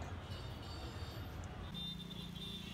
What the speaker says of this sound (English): The traffic, as you can hear, was outright mad.